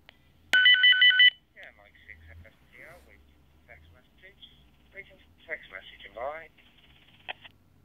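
A DMR digital radio sounds a loud, steady warbling alert tone for under a second when a text message arrives over a repeater, followed by someone talking close by.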